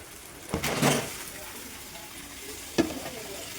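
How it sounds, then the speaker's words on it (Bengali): Mutton pieces dropped into hot oil and masala in a pan, a brief burst of loud sizzling then a second sharp hiss as more meat goes in, fading to a low simmering crackle. "এবার দেখো মাংসটা দিয়ে দিচ্ছে দিদি"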